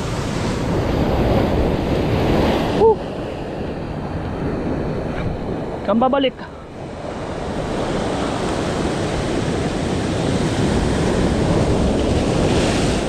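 Large ocean waves and surf wash steadily near shore at Casiguran, Aurora during a fishing outing, a loud continuous roar with gusts of wind buffeting the microphone and a brief voice partway through.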